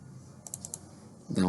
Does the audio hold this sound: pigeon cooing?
no